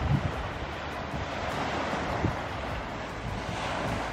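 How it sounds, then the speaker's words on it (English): Ocean waves at the beach in Falmouth, heard from a hotel rooftop, make a faint, steady wash of surf mixed with wind buffeting the microphone, with no voices. "We are in Falmouth, enjoying a time at the beach"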